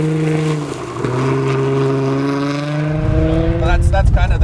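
An Audi Quattro rally car on a mountain road drones with a steady engine tone that climbs in pitch under acceleration, then turns rougher and louder, while voices talk over it.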